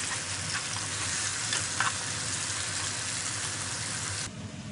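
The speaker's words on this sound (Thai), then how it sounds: "แล้วก็ผัดไปจนกว่ามันจะสุกเนาะ" Chopped fermented fish (pla ra sab) stir-fried in a pan, a continuous dense sizzle with occasional spatula scrapes, close and even, fading abruptly near the end, with no speech.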